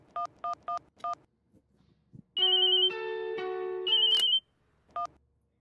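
A telephone is dialled with four quick keypad tones, then a call connects with a steady electronic ringtone and ringback that lasts about two seconds. One more short beep follows. The sound is close and clean, with no talk.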